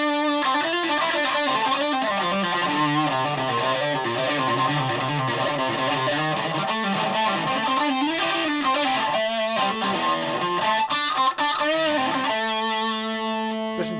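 A heavily distorted electric guitar through a RAT distortion pedal on the bridge pickup plays a gritty, sustained riff up close with bent notes and chords, ending on a held ringing chord.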